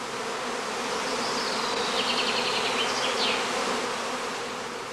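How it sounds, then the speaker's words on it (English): A honeybee cast swarm clusters on branches at a heather skep apiary, filling the air with a dense, continuous buzzing hum that holds steady and close throughout, with no voices. "On the branches, swarming bees soon form a new cluster again."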